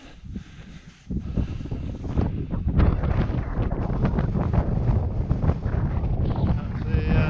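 Strong wind buffets the microphone on a mountain walk on Moel Hebog above Beddgelert Forest, a loud continuous roar that swells in after a quieter opening second and stays heavy and gusty throughout.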